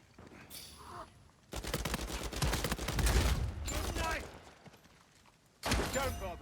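Rapid gunfire in Uncharted 4 multiplayer: loud, dense bursts of shots run for about four seconds, then break off and return briefly at the end, with faint game sounds in the gaps.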